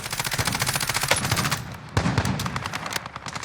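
Rapid automatic gunfire from Call of Duty Warzone plays as loud, close bursts of fast repeated shots, with a brief pause before another volley and a crack of impact.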